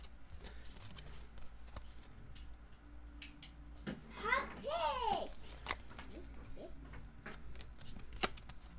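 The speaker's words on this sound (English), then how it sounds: "These cards are sticking together." Glossy football trading cards from a pharmacy box being handled and shuffled, sticking together and peeling apart with soft flicks and slides, plus a brief burst of quick card riffling near the middle, close and quiet with people talking nearby.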